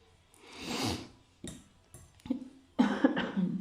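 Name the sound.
cough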